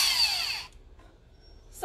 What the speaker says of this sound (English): I personally like to use an electric drill